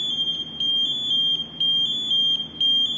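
An SCBA PASS alarm cycles through its automatic mode with loud, shrill electronic beeps in repeated bursts, separated by short pauses.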